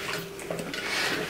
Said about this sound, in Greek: ανακατεύουμε τις πατάτες μας